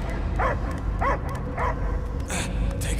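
Cosmo the dog from the video game Marvel's Guardians of the Galaxy barks in a run of sharp, evenly spaced yips and woofs, about five in a row, close and fairly loud over a low rumbling game background.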